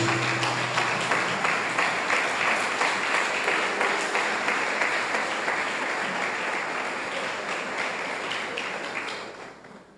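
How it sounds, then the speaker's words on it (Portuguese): A church congregation applauds together, a dense, steady wash of clapping that holds strong for most of the stretch before tapering off at the end. "Vamos aplaudir o Senhor Jesus."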